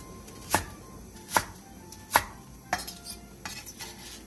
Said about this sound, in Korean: 대파 2분의 1개를 길게 반으로 가른 뒤 3cm 정도 길이로 잘라주세요.